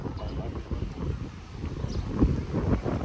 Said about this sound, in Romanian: că este cam răcoare și bate vântul